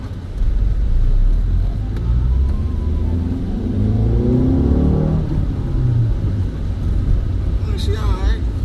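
A 2006 Ford Fusion engine fitted with a stage 3 clutch, its motor and transmission mounts worn, revs loud and close, rising to a peak and then falling back over a continuous rumbling idle.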